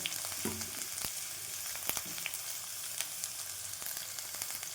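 Green chilies, garlic and coriander stems sizzling and frying in oil in a pan for palak paneer, a steady crackling hiss with occasional stirring knocks, close and alone.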